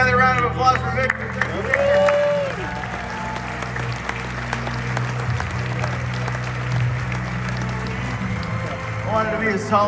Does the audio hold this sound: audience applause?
yes